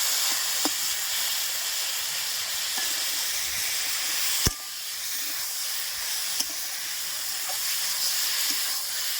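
Sliced ridge gourd fries in a pan, a steady broad hiss of hot oil running throughout with a few faint clicks and one sharp tap, close and alone.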